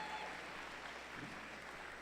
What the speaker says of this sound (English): Let's give a round of applause to our number 4 alliance.